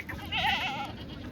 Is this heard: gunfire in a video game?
no